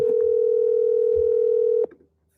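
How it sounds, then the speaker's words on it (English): Steady telephone dial tone held for nearly two seconds on a phone line before cutting off abruptly, followed by silence. "will Lloyd pick up the phone? Probably not, but we will try anyways"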